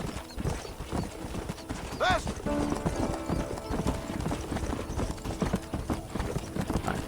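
Horse hooves clip-clop steadily and evenly in the Red Dead Redemption video game, with a brief whinny early on amid constant background game noise.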